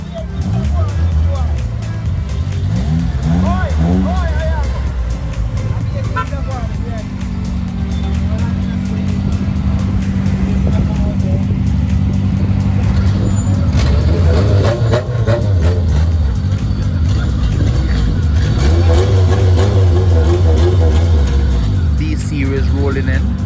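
Honda D-series engine car with no muffler rolling in at a Jamaican motorsport meet, a loud raspy exhaust droning and revving continuously up close, with crowd and talk mixed underneath.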